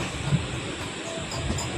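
Passenger train running on daytime rails, a steady rumbling roar of wheels and carriage heard from on board, brief and continuous.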